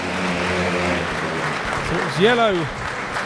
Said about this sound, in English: these boys will take a big round of applause from the Pirates fans